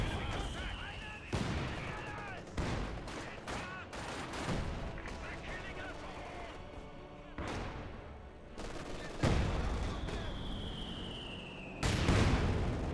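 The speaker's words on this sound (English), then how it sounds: "A light barrage" A light artillery barrage in the Company of Heroes 2 battle game: a series of booming impacts and crackling gunfire bursts at moderate volume, scattered across the whole stretch with some denser volleys.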